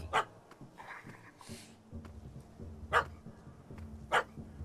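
A dog barks in the Witcher 3: Hearts of Stone video game: a few sharp, separate barks spaced over several seconds, with a low steady game hum and some small background noises between them.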